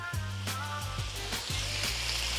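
Chicken fried rice fries in sesame seed oil, sizzling steadily and close while a spatula scrapes the pan in rhythmic repeated strokes.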